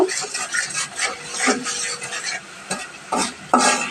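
Spices with red chilli powder and salt sautéed in oil give a close sizzle punctuated by uneven spatula scrapes and metallic clinks against the pan.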